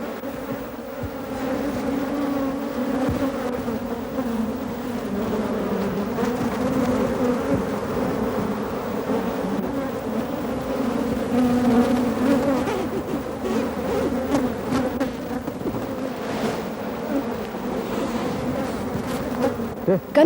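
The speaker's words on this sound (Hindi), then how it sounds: "और यहाँ तो 30-40 हजार मधुमक्खियां हैं।" A swarm of some 30,000 to 40,000 honeybees buzzing: a steady, dense, droning hum that holds loud and unbroken throughout, with no voices over it.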